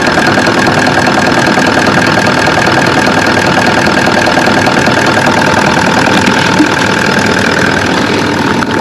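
Car engine idling steadily with a catch can fitted, a loud, close, continuous rumble with a fine ticking texture that holds unchanged throughout, no voices.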